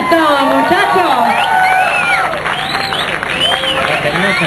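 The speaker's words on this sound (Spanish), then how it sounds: "aplauso para Taron Silverstone, muchachos." A Mexican audience at a Mortal Kombat presentation applauds and cheers for Taron Silverstone, a dense, loud wash of clapping with whoops and shouts running continuously throughout.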